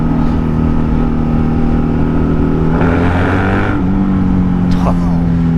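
A Honda VFC 750 V4 motorcycle engine runs loud and steady, its pitch climbing in a rev partway through before settling back to a lower drone.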